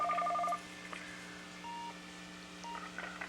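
A telephone keypad gives a quick run of dialing beeps at the start as the phone is switched off, then a few fainter scattered tones, all close and alone over a low steady hum.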